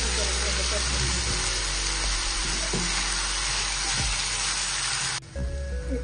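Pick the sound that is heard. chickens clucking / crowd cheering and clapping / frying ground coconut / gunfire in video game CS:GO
frying ground coconut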